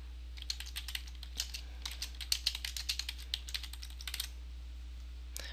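Rapid keystrokes on a computer keyboard enter a Twitter username in a steady typing run with short pauses, close and clear over a low electrical hum.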